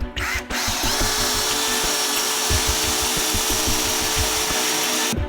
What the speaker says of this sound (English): I'm just gonna drill that and get rid of that feature of these bumper shocks.